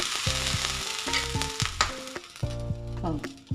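Masala dosa batter sizzles on a hot pan, a continuous hiss of frying overlaid by strong repeated tonal buzzing bursts, fairly close and loud with no speech.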